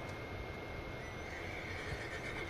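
A horse neighs loudly in a Western video game, a sustained whinny over a dense background of game ambience.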